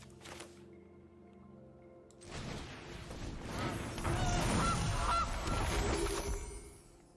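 Goose honking sound effect from the card game MTG Arena, a few honks and a squawk clustered mid-clip over busy game effects, moderately loud after a quieter opening.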